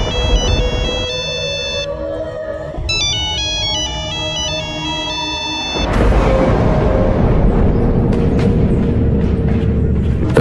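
A phone rings with an incoming call, a bright electronic ringtone melody repeating its tone pattern. A heavy dramatic boom then cuts in and drowns it out, and a thick, loud rumble carries on to the end.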